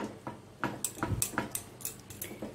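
A thickening milk-and-sugar sweet being stirred in a pan off the flame, with a series of close, light scraping and tapping knocks of the spoon against the pan in an uneven rhythm.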